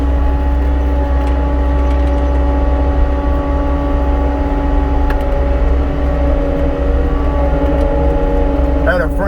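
Skid steer engine running steadily at close range during hurricane cleanup in Florida, a loud constant drone with a low hum and brief clanks over the top.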